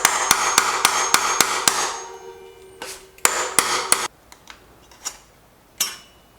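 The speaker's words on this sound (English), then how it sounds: "then we just tap it out with a hammer" A hammer taps a bicycle's press-fit bottom bracket bearing out of the frame: a quick run of sharp metallic strikes, then a pause and a few more separate ringing taps. The sound is close and loud, with no talking.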